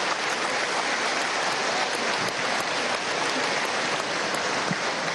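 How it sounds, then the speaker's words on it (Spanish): Audience applause at a political party congress in Venezuela, loud, dense and continuous clapping that fills the whole stretch like heavy rain. "ese aplauso es sospechoso"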